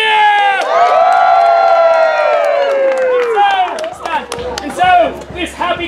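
A school theater audience cheers loudly, with high whoops and children shouting, after a comic Romeo and Juliet scene in which the couple blow kisses; the cheering starts strong and breaks into scattered shouts and claps.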